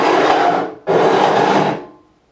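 A file rasping across the edges of guitar frets on a neck during fret work, two close, loud strokes, the first a long steady scrape, then a short break, then a second stroke that tapers off.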